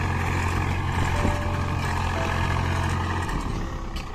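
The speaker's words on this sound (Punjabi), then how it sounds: "ਸਵਰਾਜ ਟਰੈਕਟਰ ਹੈ ਯਾਰ" A Swaraj 855 tractor pulls a plough through a field. Its engine drones steadily and loudly at close range with no break.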